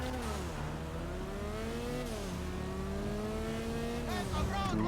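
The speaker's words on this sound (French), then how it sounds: "Elle freine pas très bien la voiture." Car engine droning and revving steadily in GTA 5, its pitch sliding up and down with gear changes, then a brief rise near the end as the car slows with poor braking.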